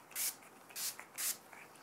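Three quick hissing sprays from an Urban Decay All Nighter makeup setting spray bottle, evenly spaced and fairly close, with brief quiet between bursts.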